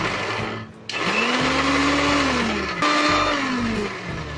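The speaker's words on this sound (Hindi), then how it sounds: "अब मैं इसमें ऐड करूंगी बटर और हम इसे एक बार अच्छे से फिर से ब्लेंड कर लेंगे।" A kitchen blender whirs steadily as homemade cream is blended with butter, a loud close motor drone with a brief dip in pitch near the start, then running continuously to the end.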